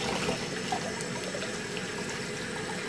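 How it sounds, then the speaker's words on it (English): Steady running water from a tap rinsing a hot tub filter cartridge for a Lazy-Spa Hydrojet Pro, a continuous splashing flow at moderate, even loudness with no pauses. "I'll just give it a good rinse."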